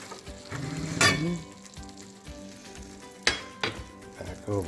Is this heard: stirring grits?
yes